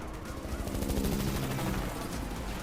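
In The Matrix Awakens, an M60 machine gun fires in sustained rapid bursts, a dense rattling barrage layered with game effects, moderately loud and continuous throughout.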